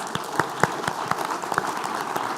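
Applause from the audience at the closing of the World Circular Economy Forum 2022, a steady bed of clapping with distinct individual claps popping out irregularly, moderately loud and continuous.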